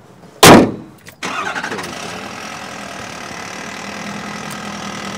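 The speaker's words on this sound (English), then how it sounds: "before I even start the truck up" Truck engine starting after a pre-trip check: a loud cranking burst, a brief pause, then the engine catches and settles into a steady close idle rumble.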